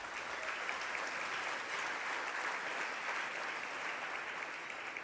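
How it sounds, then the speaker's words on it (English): Sustained applause from a luncheon audience at an 86th annual meeting in Boston, a steady, dense wash of clapping that holds evenly for the whole stretch without any voices. "Please give them a round of applause"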